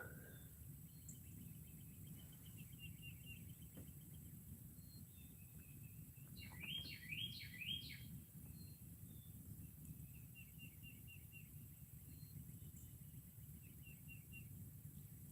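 Morning birdsong outdoors: scattered high chirps and short trilled phrases from several birds, one brief louder burst of quick calls midway, over a steady low hum and faint insect-like background.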